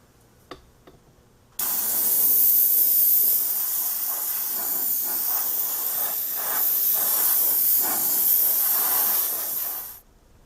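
Future Floor Wax is sprayed from an airbrush over a 1/35 Tamiya M1A2 Abrams tank model. A steady, close, continuous hiss lasts about eight seconds, then cuts off abruptly.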